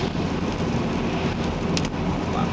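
Steady heavy rain drums on a car while it drives along a road prone to flooding, a dense, continuous wash of noise close around the cabin with no voices.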